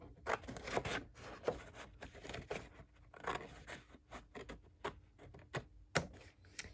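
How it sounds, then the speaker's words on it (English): Scissors cut through a paper folder along its fold line, a series of close, crisp snipping strokes in an uneven rhythm with short pauses between cuts. "you're going to just make a cut along the fold line right up to the center"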